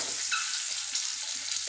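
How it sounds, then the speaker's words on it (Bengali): Hot oil in a pan as eggs go in to fry for a capsicum egg curry, giving a soft, even hiss with faint crackles throughout, close and fairly quiet, no talking. "দেখুন তেল গরম হয়ে গেছে, আমি ডিমগুলো ভেজে নেব।"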